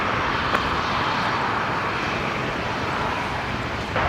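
A Dash 8 Q400 turboprop airliner of National Jet Express at Brisbane Airport near runway 19 left, its engines and propellers giving a loud, steady broadband roar that holds without a break.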